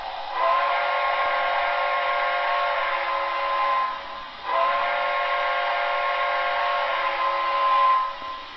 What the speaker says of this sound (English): But let's take a look at the whistle.